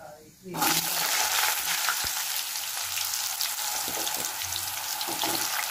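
Potato pieces dropped into hot oil with dried red chili and five-spice tempering for a Malabar spinach stir-fry: a rush of loud sizzling bursts out and keeps hissing steadily, close by and without talk.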